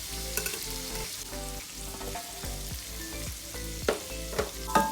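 Restaurant-style chicken fried rice sizzles steadily in a hot pan as soy sauce and salt go in, with intermittent clinks and scrapes of stirring up close.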